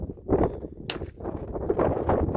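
A single sharp shot from a .22 bolt-action single-shot rifle cracks out once amid a steady, rumbling engine-like background noise from a truck.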